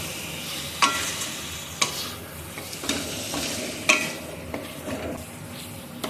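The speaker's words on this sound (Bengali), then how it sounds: "আমি ভাবলাম যে চিকেনটা দিয়ে দিই, তাহলে চিকেনটা ওর সাথে সেদ্ধ হবে" Chicken and tomato cooking together in a pot give off a steady close sizzle, broken by several sharp scraping stirs spaced about a second apart, with no talking.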